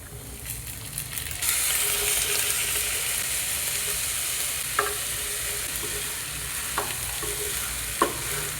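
Beans and other vegetables hit a pan of softened onions for oats upma, bursting into a loud, steady sizzle, with a few sharp scrapes and taps of stirring; no one speaks.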